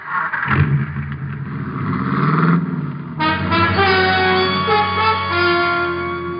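A car drives across town, its engine humming steadily with a horn-like toot and the brighter tone of passing traffic in the second half, rendered as a radio-drama sound effect.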